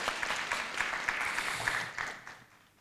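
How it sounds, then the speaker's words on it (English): An audience at an economic report launch conference claps in a short, moderate round of applause, scattered hand claps blending together before fading out toward the end. "Let's give him a round of applause."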